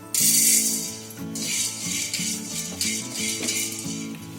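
Whole black peppercorns rattle and patter into a kadhai heating on the stove, a quick scattering clatter at the start followed by lighter rolling and skittering of the dry spice against the metal pan.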